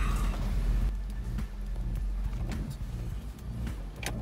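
A Pontiac Torrent rolls slowly out of a driveway with a low, steady engine rumble up close, faint clicks and knocks over the top, and no talking.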